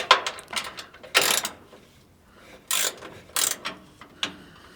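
A box-end wrench works a bolt on the steering of a 1946 Chevy truck, making sharp, close ratcheting clicks in several short bursts separated by brief pauses.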